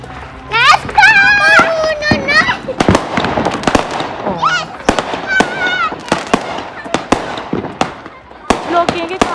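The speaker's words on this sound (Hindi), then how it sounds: "बस ये लोग जाके फायर वर्क करते हैं, फिर हम लोग आके बस देखते हैं" Fourth of July fireworks crackle and pop in sharp repeated bursts, close and loud, while children squeal and shout and adults talk excitedly between the blasts.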